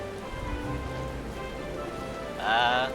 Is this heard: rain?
yes